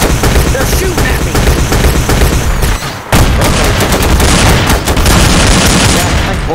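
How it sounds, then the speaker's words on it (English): Loud, dense gunfire from a video game shootout against a mob boss's crew, with rapid automatic bursts and booming shots nearly nonstop, a brief gap near the middle, and a voice faintly mixed in. "They're shooting at me!"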